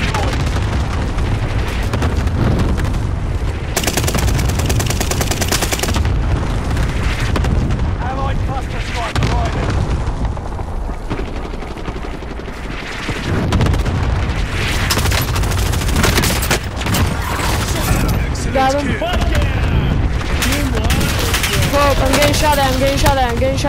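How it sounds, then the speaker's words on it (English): Gunfire and explosions in Call of Duty: Modern Warfare, loud continuous bursts and booms throughout, with voices talking over the battle. "I'm getting shot at."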